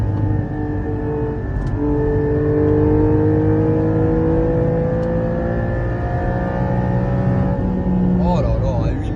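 A Porsche 718 GT4 with a manual gearbox revs its engine hard to around 8000 rpm on a track, a loud sustained high-pitched wail rising steadily from inside the car, with a few voices briefly audible.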